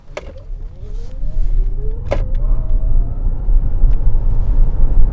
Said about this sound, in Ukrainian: Зараз трошки розженемось і будемо гальмувати.